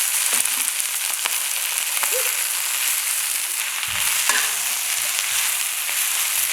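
Spinach sizzles steadily in hot oil in a pan while being cooked for vegan japchae, a continuous close frying hiss with occasional stirring clicks and no talking.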